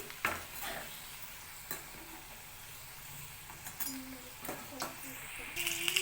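Veg Maggi rolls deep frying in oil give a soft, steady sizzle, with a few light clinks of a utensil against the pan; the sound is faint and fairly close.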